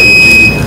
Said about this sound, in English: Is that my 3-minute buzzer?